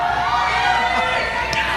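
A crowd cheers and roars at a Mobile Legends: Bang Bang esports world championship knockout match, a dense steady wash of distant voices with a voice speaking over it.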